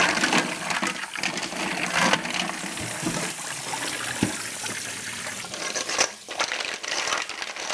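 Fresh mussels for seaweed soup are washed under running water, a steady close trickle and splash with shells clattering and rubbing in the hands, no talking.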